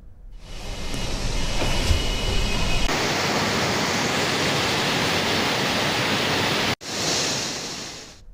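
Floodwater roars through the raised gates of the Srisailam dam in Kurnool during heavy monsoon inflows, a loud, steady, broadband rush heard close and alone, with a sudden brief dropout near the end.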